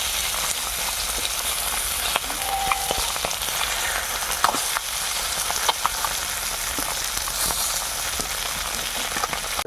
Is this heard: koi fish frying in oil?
yes